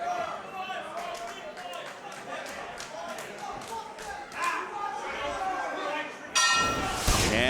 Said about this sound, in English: And the bell is off, and we are starting with Kyle Fletcher and Jonah.